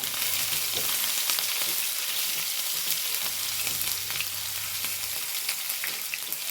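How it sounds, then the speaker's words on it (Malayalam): Chopped ginger sizzles in hot oil with curry leaves in a pan, a steady close crackling fry with faint low hum and occasional stirring clicks, no talking. "ഇഞ്ചി ഒന്ന് മൂക്കട്ടെ"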